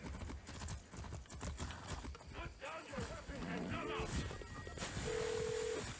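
Horse hooves clip-clop in Far Cry 6 as the horse is ridden around Cuba, a steady rhythmic trot under game music and voices, with a faint tonal beep partway through.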